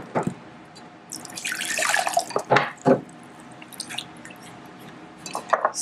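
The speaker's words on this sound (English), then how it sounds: "I'm going to pour some more water" Water poured into a plastic bottle holding a little baking soda, with splashy bursts and gurgling trickles building and fading, close and fairly loud with no talking.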